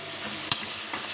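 Ground spice paste sizzling in well-heated oil for a village-style fish curry, a steady close hiss broken by one sharp scrape of a stirring spoon against the pan.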